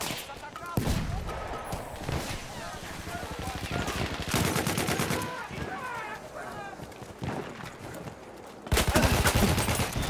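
Bursts of machine-gun and rifle fire ring out during a Battlefield 1 Domination match, coming in rapid volleys at varying distances, with players talking over the shooting.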